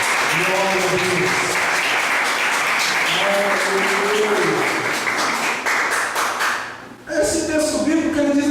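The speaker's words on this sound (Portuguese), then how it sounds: "dá uma meditação de palmas para o Senhor Jesus Cristo." A church congregation applauds in worship during a sermon, a thick, continuous clapping that runs loud throughout, with voices and sung tones rising over it, a brief dip near the end and then more cheering.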